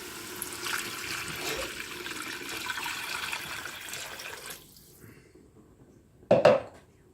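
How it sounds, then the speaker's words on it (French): Water pours and splashes into a metal pressure cooker over sautéed onions for a vermicelli chorba soup, a steady running wash for several seconds that fades, followed by a brief loud metallic clatter near the end. "on peut à ce moment-là rajouter de l'eau et fermer la cocotte"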